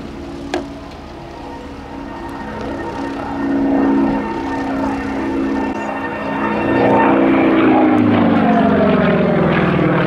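A Super Pitts Model 12 aerobatic biplane performs at an air show vintage display. Its propeller engine roars loudly and climbs, with the pitch sweeping and shifting as it flicks and rolls overhead.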